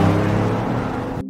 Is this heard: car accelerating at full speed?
yes